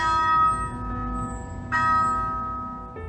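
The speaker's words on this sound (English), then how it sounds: "students would ring this bell dedicated to his enthusiasm" A large campus bell rung by students as a school spirit tradition, with two loud struck tolls whose long metallic ringing decays slowly, followed by a third strike at the end.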